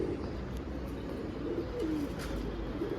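A pigeon, a stray homing pigeon among wild pigeons, coos softly a few times against a steady low background hum, with no voices.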